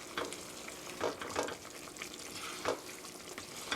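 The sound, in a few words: stirring bubbling mapo tofu sauce with doubanjiang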